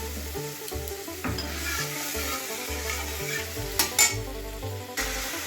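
Ground spice paste with ginger, onion and garlic sizzles in a pan for hilsa biryani, a steady frying hiss with stirring and a few sharp utensil clinks near the end, under background music.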